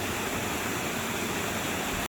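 Creek water rushes over rocks in a Sequoia National Park stream, a loud, steady, broadband wash close by that cuts off abruptly at the end.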